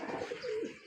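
Racing homer pigeon cooing close by, one soft, throaty, warbling coo rolling through under a second, with no speech.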